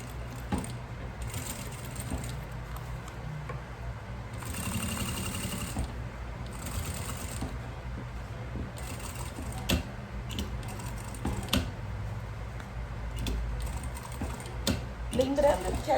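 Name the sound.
sewing machine stitching around a makeup bag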